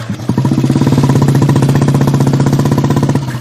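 A motorcycle engine runs close by, a loud steady thumping putter with a quick regular pulse that holds for about three seconds before easing off.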